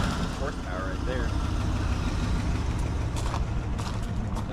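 Engine of a 1988 Dodge Power Ram truck, revived after sitting for 23 years, runs loud and close in a steady rough idle with a broken exhaust hanger. Voices can be heard over it.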